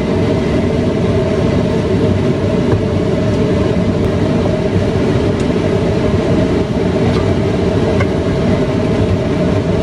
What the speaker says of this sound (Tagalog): Kailangan ko kasi buksan yung exhaust kasi may dito sa bahay.